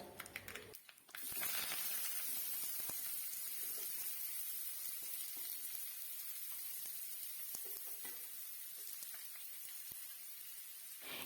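Beetroot, shallots, curry leaves and dried chillies sizzle loudly in a hot pan. The steady hiss runs unbroken for about ten seconds after a brief crackling start, with no voice over it.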